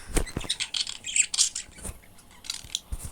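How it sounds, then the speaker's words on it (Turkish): Small birds chirp and squawk in quick, irregular bursts nearby, with sharp high calls scattered across a quiet room. "bu arada kuş sesi geliyor olabilir."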